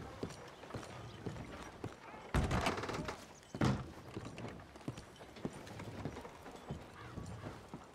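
Horse hooves clip-clop in Red Dead Redemption 2, a steady rhythmic patter of footfalls across the whole stretch, with two louder bursts of ambient game noise mixed in.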